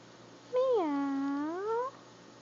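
A small child imitates a cat's meow with a single drawn-out, rising-and-falling vocal meow lasting over a second, clear and close in a quiet room.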